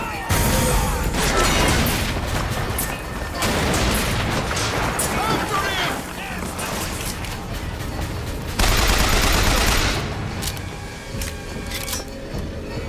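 Gunfire aimed at a giant turret in BioShock Infinite crackles in dense, continuous bursts with heavy booms and explosions, loud and chaotic throughout, while someone talks over part of it.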